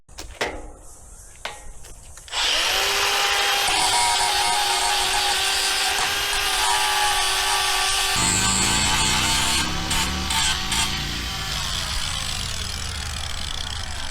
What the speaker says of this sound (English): Now that they're both grinded back, I'm just going to clean up some of this edge just so it's a bit nicer to weld.